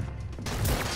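Gunshots in Red Dead Redemption 2 land as a sudden loud burst that fills the second half of a brief moment, following quieter game ambience.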